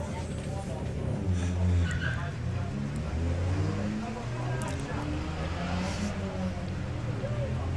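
A Volkswagen Passat makes a drag racing qualifying run at Santa Pod's VWDRC Festival of Power, its engine roaring steadily throughout, with continuous commentary over the top.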